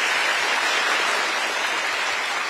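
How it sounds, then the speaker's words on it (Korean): A large audience at a lecture hall talk for newly appointed government managers applauds in a dense, continuous wash of clapping that stays loud and even throughout. "여러분 다시 한번 박수 부탁드립니다."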